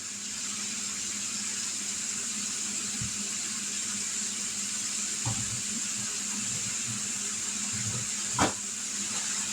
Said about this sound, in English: Let me wash my hands so that knife don't slip.